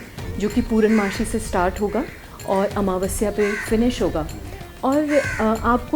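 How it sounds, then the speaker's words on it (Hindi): A crow caws now and then in the background behind steady, close Hindi speech, its calls partly buried under the talking voice. "देखिए अभी हम बात कर रहे हैं और कौवा बोल रहा है ना"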